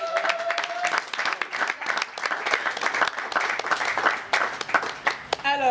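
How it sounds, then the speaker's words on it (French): An audience applauds a group of men at a Congolese film presentation, steady dense clapping lasting throughout, with voices calling out over it and a short whooping sound near the end. "On va applaudir une fois de plus pour ces messieurs."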